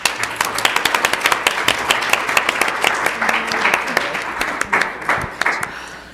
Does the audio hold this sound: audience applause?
yes